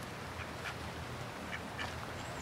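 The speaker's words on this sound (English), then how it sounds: "Hello, duck. Quack, quack." Ducks being fed corn outdoors give a few faint, scattered quacks over steady background noise and wind.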